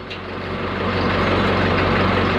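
A heavy vehicle rolls past on a road, its engine drone swelling steadily louder over a couple of seconds, close by with no voices.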